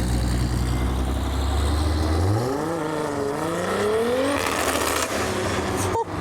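A sequential single-turbo Toyota Mark IV Supra engine revs up loudly nearby, its rising pitch climbing in steps through the gears before cutting off abruptly at the end.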